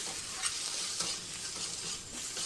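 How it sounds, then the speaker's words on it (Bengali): Spices, salt, turmeric and softened tomatoes being stirred in a pan while bottle gourd cooks with egg in a little oil, giving a steady, close sizzle and frying hiss with light scraping stir strokes throughout. "সব কিছু ভালোভাবে এখন মিক্স করে নিচ্ছি"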